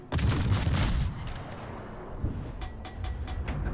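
Naval guns of a Cleveland-class cruiser fire in a warship video game: a heavy booming salvo up front, then a softer rumble with several sharp follow-up reports further off.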